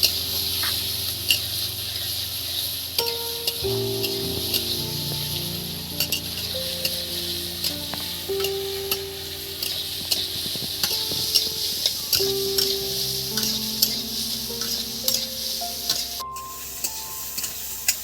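Chopped ingredients frying in a pan while being stirred, with a soft steady sizzle underneath and scattered scraping and tapping of the spatula against the pan, fairly quiet and close.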